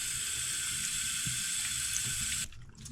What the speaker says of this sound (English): I'm going to rinse it out really good with clean water, cool, clean water